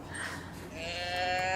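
A replacement growler voice box for a teddy bear gives a wavering, sheep-like bleat that rises and grows louder toward the end, heard alone at close range.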